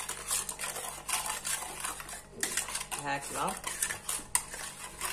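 Cake batter being mixed in a bowl, a utensil scraping and clinking against the sides in irregular strokes, close and fairly quiet, while someone talks over it.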